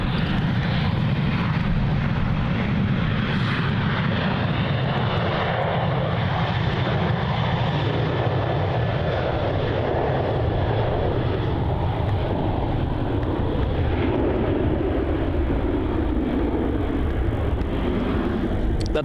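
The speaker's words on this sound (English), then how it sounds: "That departure is Qantas flight QF612 off to Brisbane." A Qantas airliner departing Melbourne Airport, its engines a steady, broad roar that holds loud for about nineteen seconds with no break or talk over it.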